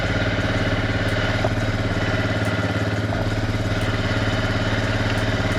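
A Suzuki Eiger QuadRunner ATV engine runs steadily in reverse with a loud, even rhythmic chug and a faint mechanical clatter, holding a constant pace close by.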